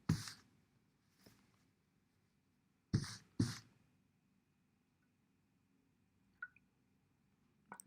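Wet printmaking paper is lifted from a soaking bath, giving a few short splashy drips and wet squishes separated by near silence, close and fairly quiet.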